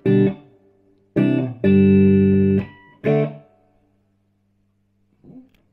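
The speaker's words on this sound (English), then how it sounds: "It is solid state reverb on that" Short bursts of sustained electric guitar chords ring out through the solid-state reverb of a restored Carlsbro CS60 PA amplifier, an echoing tail lingering after each strum, ending with a faint final note.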